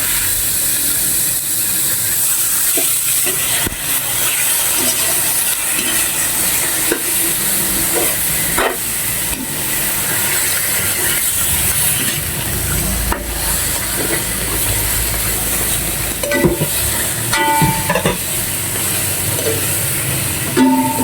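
Chicken pieces hit a pan coated with green curry paste and fry with a steady broadband sizzle and hiss. Occasional stirring clinks and scrapes sound close up across the whole stretch, and no one speaks.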